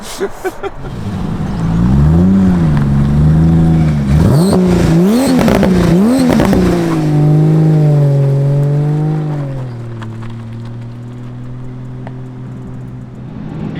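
A 600 bhp 2JZ-swapped six-cylinder rear-wheel-drive Subaru Impreza revs hard several times in quick surges, then pulls away in a long loud drone that eases off toward the end, close and without talk.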